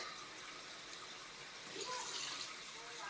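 Quiet, steady water pouring into a cooking pot of pork bones for nilaga, a continuous gentle rush with faint background noise.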